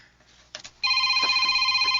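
Telephone rings with an incoming call, a loud, close electronic ringtone with steady tonal pulses, preceded by a brief faint rustle.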